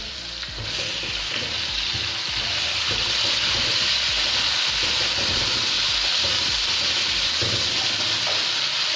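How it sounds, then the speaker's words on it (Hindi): Chicken pieces coated in ginger-garlic paste fry in hot oil for a pulao, giving a loud, steady sizzle throughout with occasional scraping stirs. "चिकन को हमें इतना भूनना है, अच्छे से इतना भूनना है कि इसका कलर चेंज हो जाए"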